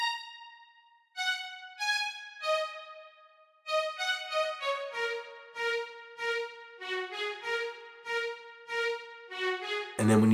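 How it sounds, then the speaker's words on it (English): A Logic string ensemble plays a bright main melody for a beat, sustained bowed notes moving stepwise in a flowing phrase, moderately soft and solo, ending with a sudden louder burst. "I found the string ensemble, and I played this very cool string kind of main melody"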